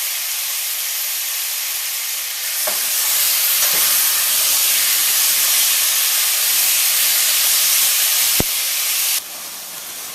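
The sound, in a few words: coconut beef stew boiling in a pot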